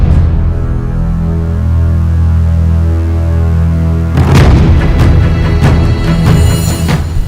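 Celebratory gunfire at a family sacred thread ceremony: after a stretch of loud, droning festive music, a series of sharp, loud bangs erupts and keeps cracking out irregularly over the continuing din.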